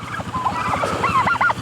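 A short burst of turkey gobbling, a few rapid warbling calls from nearby birds, with low background noise underneath.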